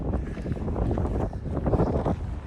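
Strong wind at the beach buffets the microphone in a continuous loud low rumble with gusty surges, no voices.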